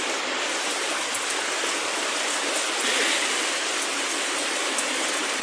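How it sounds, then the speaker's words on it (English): Heavy rain pours down steadily over floodwater flowing through a slum in Kibra, a loud, dense and unbroken hiss of falling water close by, with no speech heard. "So you can see even here the rain."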